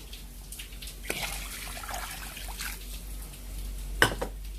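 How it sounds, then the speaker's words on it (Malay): Water pours into a pot of bones for gear box soup, a faint, quiet trickle and splash with a couple of sharper clinks against the pot, close by and with no talk. "Ini tak cukup tenggelam, boleh tambah lagi air."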